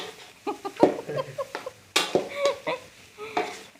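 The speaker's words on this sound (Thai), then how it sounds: "เราก็จะผัดไปเรื่อยๆก่อน" Minced pork for khua kling is stir-fried in a pan, with a spatula scraping and clinking against the metal in irregular strokes over a faint sizzle, close and fairly quiet.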